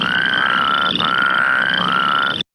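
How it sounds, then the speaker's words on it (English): Plain spadefoot toads give repeated short, hoarse croaks close to a classic ribbit, loud and close, over a background chorus of frogs. "The plain spadefoot toad has a call that is about as close to the sort of classic ribbit call"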